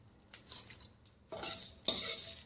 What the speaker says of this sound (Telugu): ఇప్పుడు గ్యాస్ ఆఫ్ చేసుకొని దీన్ని ఒక గిన్నెలోకి తీసుకుందాం